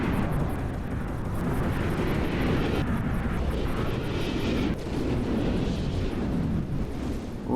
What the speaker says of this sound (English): Got some more explosions going on down here.